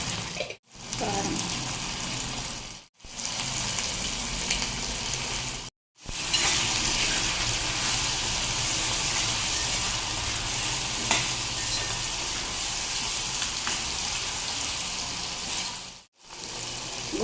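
Pumpkin pieces for a pumpkin curry sizzle and crackle steadily in a hot pan, a close, continuous frying hiss broken by a few brief cuts.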